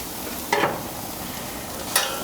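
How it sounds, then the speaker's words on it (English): Raw shrimp laid onto a hot stainless steel grill over a fire, giving two short, bright sizzling hisses about a second and a half apart over a steady low background hiss. "Now we're going to take our shrimp. We're just going to lay the shrimp"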